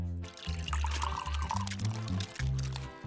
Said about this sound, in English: Why are you pouring the punch like that?